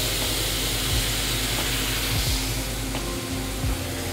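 Taco marinade sautéing in a pan, a loud continuous sizzle with steady frying hiss throughout, no talking.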